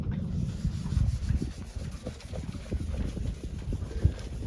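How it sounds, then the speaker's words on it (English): Hand polishing of a sailboat hull ahead of relaunch, an irregular rubbing and scuffing close by with occasional knocks. "Last bit of polishing before we go back."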